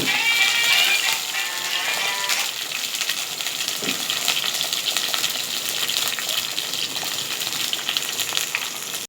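Small onions frying in oil with fenugreek, mustard seeds and urad dal for a village-style fish curry, a steady loud sizzle with occasional stirring and a brief squeal near the start.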